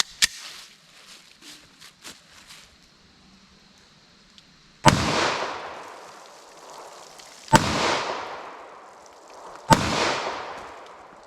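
Three loud, sharp pistol shots of a Federal HST .45 ACP +P 230-grain jacketed hollow point fired at a pumpkin outdoors, spaced a few seconds apart with each report ringing out and decaying, preceded by faint handling clicks.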